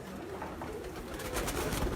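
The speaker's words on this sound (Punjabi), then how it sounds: "ਚਿੱਟਾ ਮੋਟੀਆਂ ਵਾਲਾ ਕਬੂਤਰ" A thick-set white pigeon coos at a pigeon keepers' gathering, a low soft cooing close by over a steady outdoor background, with no clear speech.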